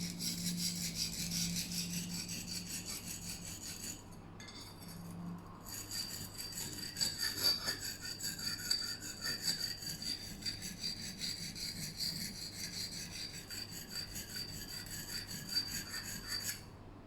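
A knife blade being sharpened on a stone, giving steady rhythmic rasping and scraping strokes at moderate volume with short pauses, and no talking.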